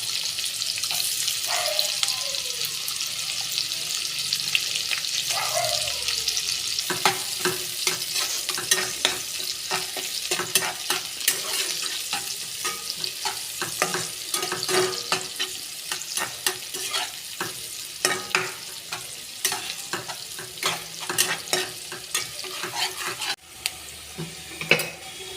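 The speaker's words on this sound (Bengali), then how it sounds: "রসুন পেঁয়াজটা আমার একটু লালচে করে ভাজা হয়ে গেছে।" Garlic, ginger and chopped onion frying for egg tarka make a continuous close sizzle, dotted with many quick stirring clicks and scrapes and a faint watery hiss, with no voices.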